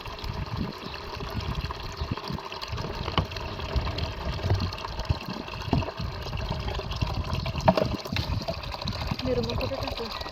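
Water gushes and splashes as it fills a container for washing clothes at home, an uneven running pour with sloshing bursts, heard under someone talking.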